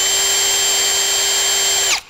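A power drill spins a bit that is set slightly off-centre in the chuck, giving a loud, steady high whine that spins down at the very end.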